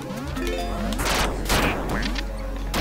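Shotgun blasts in Duck Game, several quick sharp bangs close together over busy game music and effects, fairly loud and near.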